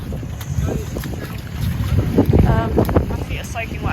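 Strong wind buffets the microphone in a steady, loud roar at a wet, cold motorcycle rally, with a voice talking over it throughout.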